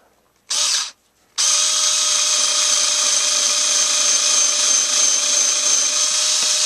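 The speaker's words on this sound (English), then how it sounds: "Let's try to drill a hole." A Genesis 7.2 volt lithium-ion two-speed cordless screwdriver drilling a hole whirs briefly, stops, then runs steadily at a high, loud whine for several seconds close by.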